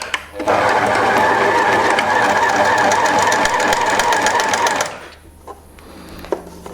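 A sewing machine shirring fabric with elastic thread in the bobbin, its tension set slightly higher and stitch length shorter, runs loud and steady for about four seconds, then stops, leaving quiet handling sounds.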